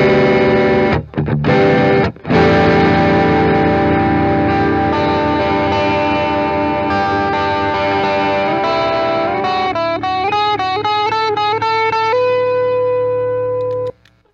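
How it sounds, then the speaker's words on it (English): Electric guitar pushed through a red Stax Odrive-1 overdrive pedal rings out loud and sustained, with thick distorted chords, two brief gaps, then a run of bent, warbling notes before cutting off. "So we're getting some good distortion."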